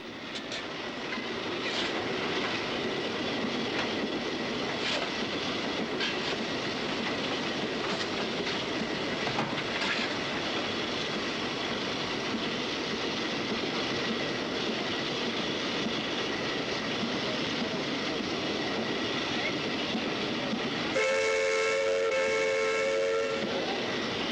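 A 1960s steam locomotive running at speed gives a steady, loud, broadband roar of motion and rail noise that fills the whole stretch, with a brief sharp whistle-like tone near the end.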